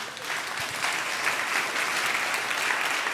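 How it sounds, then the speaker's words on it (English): Steady applause from the audience at a Jim Kwik talk on developing an ageless brain, an even, continuous wash of many hands clapping at moderate loudness from start to finish. "Let's give him a round of applause"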